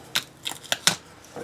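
Insulating paper peeled off the cells of a Snap-On 18V NiCad battery pack during a rebuild, heard as four or five short, crisp crinkling tears spaced apart in quiet surroundings.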